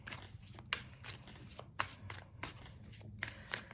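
A deck of tarot cards is shuffled by hand, giving a series of crisp riffling and slapping bursts in irregular rhythm, close up and fairly quiet.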